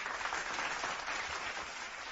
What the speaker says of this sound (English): I want to give a big round of applause for Russell Westbrook